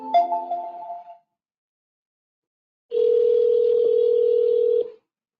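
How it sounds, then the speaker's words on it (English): An outgoing softphone call in GoTo Connect plays a short burst of dialing tones, then falls silent before a loud, steady electronic ringback tone that lasts about two seconds. No one speaks. "I'll go ahead and make a call now."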